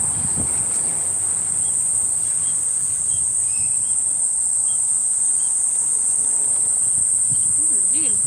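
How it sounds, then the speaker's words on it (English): A loud, unbroken high-pitched cicada drone fills a Tokyo park in summer, steady and near, with faint background murmurs and brief chirps beneath it. "Those are the cicadas, the they are sounds of summer."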